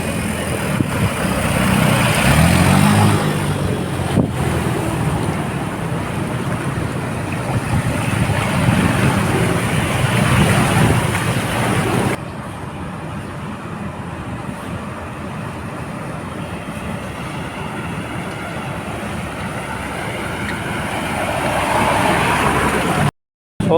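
Motorcycles ride through a flooded street on Kalaw Street in Manila, a continuous engine rumble mixed with sloshing water, louder at first, dropping to a steadier wash midway, then swelling again near the end.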